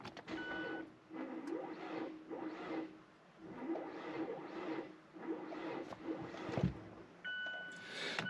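A Mazda with a blown engine cranks on a weak jump box, making a faint, slow, labored rhythmic churning that never catches or fires.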